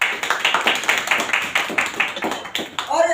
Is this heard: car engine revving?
no